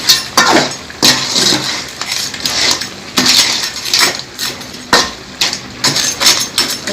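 Pepper and cumin being stirred into a crab gravy in a pot, with loud, rhythmic metal clanks of the spoon against the vessel repeating throughout, close and with no talk.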